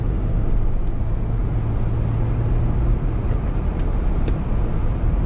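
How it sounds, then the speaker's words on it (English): A 2018 Jeep JL on tires, cruising on a road at about 55 to 60 mph. It gives a steady, even hum of tire and road noise from inside the cabin, continuous and moderate with no talking. "As you can tell, not a whole lot of tire noise."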